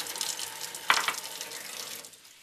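Water poured into a pan of vegetables cooking on the stove, a sudden splash and hiss that fades into a steady sizzle, close and alone.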